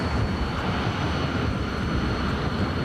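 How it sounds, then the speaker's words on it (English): Jet dragsters at a nighttime drag racing event at Famoso Raceway in 2012 give off a loud, continuous turbine roar that fills the space without pause, and no separate burner pops stand out. "Listen to them talking to you as they bark at each other with the burner pops"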